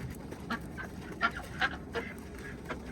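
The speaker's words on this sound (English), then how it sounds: "These are my chickens coming out for the morning." Backyard chickens coming out in the morning give a few short, scattered clucks and honk-like calls, fairly close over a quiet outdoor background.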